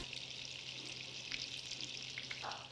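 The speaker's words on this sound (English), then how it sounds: "you're also gonna listen, because brown butter is very loud" Brown butter sizzles and foams in a pan with a dense, steady crackle close by, faint and unbroken, with no talking.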